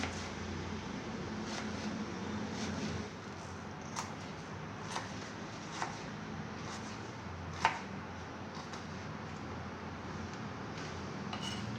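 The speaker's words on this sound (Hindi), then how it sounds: "इसको 3 कट लगाएंगे, बारीक काटेंगे ताकि ये अच्छी तरह गल जाए। ऐसे बारीक बारीक काट लें।" An onion is finely chopped with a knife on a board, giving a series of soft, quick, close taps over a low steady background hum, with a few sharper knocks standing out.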